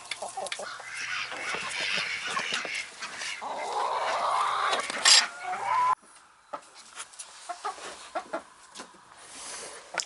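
Small caged birds, newly given and kept apart from aggressive flockmates, cluck and call in short bursts at close range, with scattered rustling and a brief break midway before the calling resumes.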